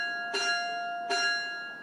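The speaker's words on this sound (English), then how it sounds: "The final bell rang" A bell rings for the end of an exam in an exam hall. Two bright metallic strikes sound about three quarters of a second apart, each leaving a sustained ringing tone, and a third strike starts just at the end.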